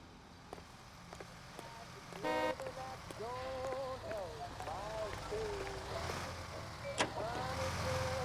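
A car is driven in the video game L.A. Noire, its engine hum running low beneath game sounds, a horn-like toot and tonal effects, with voices talking over it.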